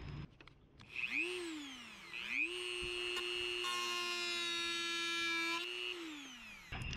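A Dremel rotary tool cuts through tough inner fender material, its high whine rising twice as it spins up, then holding a steady loud buzz as it bites, and winding down at the end.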